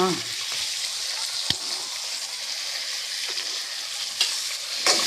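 Small or large onions and three dried red chillies sautéing in a pan, a steady bright sizzle with a few sharp stirring clicks, close and continuous without talk.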